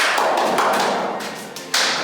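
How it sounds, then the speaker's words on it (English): Hands clapping inside the stone fortifications of Fort Ontario, New York, producing a dense run of sharp claps with long, boomy reverberation off the stone walls, close and loud throughout. "Clap your hands, guys."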